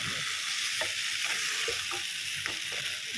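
Beef with broccoli and mushroom sizzles steadily in a pan, a dense close hiss with soft scraping stirs every half second or so.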